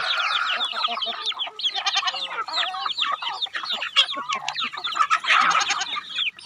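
Chickens cluck and squawk continuously at a Thai farm, a dense chorus of overlapping fowl calls close by, with a rooster-like voice among them and no talk.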